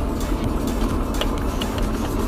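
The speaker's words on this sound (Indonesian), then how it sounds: "Cuman ini dia Toyota boxer engine loh basicnya bro." Toyota FT86 Rocket Bunny with its boxer engine driving on an open road, a steady low engine drone with road rumble running continuously and fairly loud throughout.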